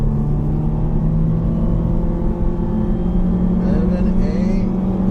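A 2013 Nissan Juke Nismo in all-wheel drive launches from about 600 RPM, its engine a steady loud drone with rising tones as it pulls away, heard from inside the cabin over a continuous low rumble.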